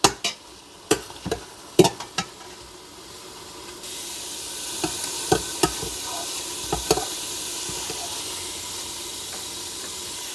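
Beef searing in an Instant Pot: a steady sizzling hiss swells as pieces go in, broken by several sharp clinks and taps of a utensil against the pot.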